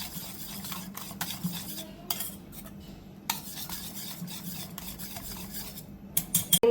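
Grated coconut being stirred into a whipped mango ice cream mixture, giving soft repeated scraping and rubbing strokes of a utensil against a bowl with a few light clinks, steady and close, no voices.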